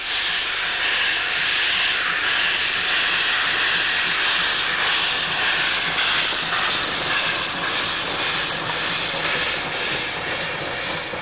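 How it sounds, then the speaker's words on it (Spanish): Steam locomotive of the Paeo Express running on a Sunday spring service in Japan, heard as a loud, continuous hissing roar of steam and machinery, steady throughout without pauses. "El Paeo Express, muy popular y por supuesto a vapor, circula todos los domingos durante la primavera."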